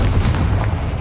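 A Confringo blasting spell from Hogwarts Legacy lands as a short, heavy explosive boom that rumbles for about a second. It is loud and close, with no talking.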